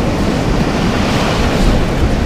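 Steady wash of small waves rolling onto a white sandy beach facing the Indian Ocean in Lombok, a continuous soft surf with low rumble and light wind, no voices.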